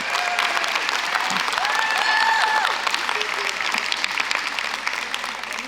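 Steady, dense audience applause for panelists at a feminist foreign policy conference, loud and sustained throughout, with faint voices mixed in.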